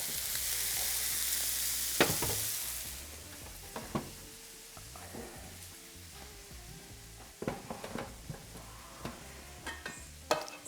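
Meatballs and potatoes fry in a pan, a bright steady sizzle that is loud at first and then settles lower, broken by scraping and clinking stirs from a utensil.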